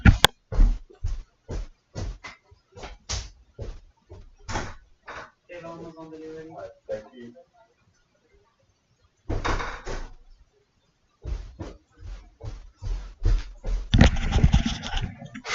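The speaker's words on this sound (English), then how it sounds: "I'm going to go open the door" A front door opens partway through a stretch of indoor talk, a brief creaking, rattling handling sound between bursts of speech before voices resume.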